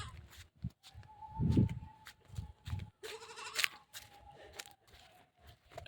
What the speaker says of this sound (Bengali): তো ছাগল আছে, কত পশু আছে।